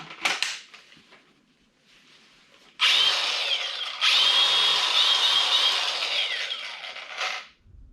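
A Milwaukee cordless cutting power tool fired up, a few short bursts before two sustained loud high-pitched runs that wind down at the end.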